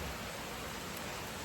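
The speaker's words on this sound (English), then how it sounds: "Rain, rain, rain." Steady rain falls outside near a barn, a soft even hiss of drops that holds without pause across the short stretch, faint and with no voices over it.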